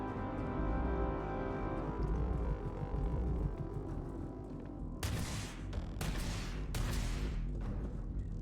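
Heavy weapon fire in Starfield survival mode: three loud, sharp blasts in quick succession near the end, following a low humming game ambience.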